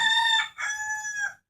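A rooster crows nearby, one loud, drawn-out call with a brief break partway through before trailing off, standing alone.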